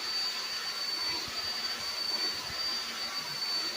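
A hair dryer blows with a steady, loud whooshing drone and a thin high whine, continuous and close, with no talk.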